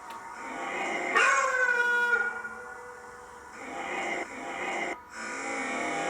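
A dog howls in a drawn-out, wavering cry that rises and trails off, followed by softer whimpering howls, fairly close and alone with no talk.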